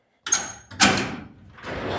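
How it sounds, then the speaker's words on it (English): A shop door on a cattle and sheep pasture farm is pulled open in a few quick bursts, a scrape and thump followed by a longer rolling rattle, close and fairly loud. "Get this door open."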